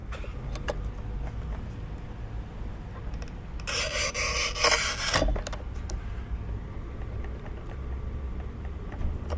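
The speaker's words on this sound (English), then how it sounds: "This porcelain is a little too hard, a little too thick for this little guy, this little manual tile cutter here." Cheap manual tile cutter scoring very hard half-inch-thick porcelain tile, one short harsh scraping pass of about a second and a half, close, amid quiet background noise.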